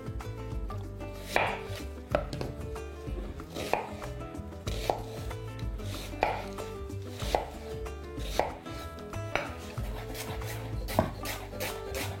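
Two small onions chopped finely with a knife on a board, giving a close, moderately quiet series of crisp knife strikes, with clusters of cuts every second or so across the span.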